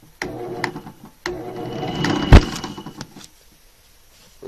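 A drill motor runs for a couple of seconds with a whirring hum after being hand-tightened for centering a bit without a lathe, bracketed by short handling clatters and a sharp knock near the middle, then quiet.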